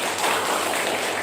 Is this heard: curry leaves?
no